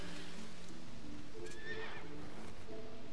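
In the video game Stranger of Paradise Final Fantasy Origin, a horse whinnies in a rising, shaky neigh at moderate distance over a constant low background hum, with faint hoof clops nearby.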